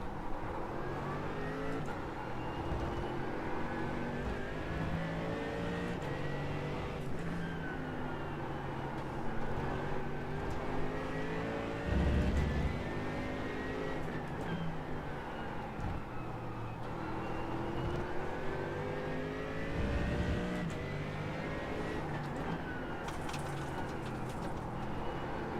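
Mercedes AMG GT3 Evo race car in iRacing, its engine droning loud and continuous with rising and falling revs through gear changes, the note climbing and dropping repeatedly for the whole stretch.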